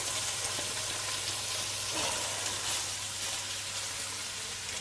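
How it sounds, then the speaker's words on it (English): Crusted chicken breast spits and crackles in hot fat, a steady broad sizzle with scattered pops running throughout, close and fairly quiet, with a low steady hum underneath and no talking. "Now do be careful for the splatters of fat when you are putting this in. It does spit quite a lot."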